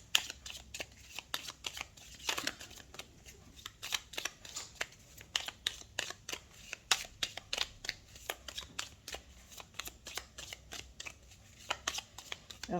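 Tarot cards shuffled by hand in a steady run of crisp, papery riffles and slaps, close and fairly quiet, continuing for several seconds with no one speaking.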